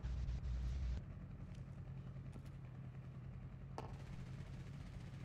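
Gunfire in the Call of Duty Warzone video game sounds as a short, muffled burst of rapid automatic fire at the start, distant and low. It sits over a steady engine-like drone that continues afterward.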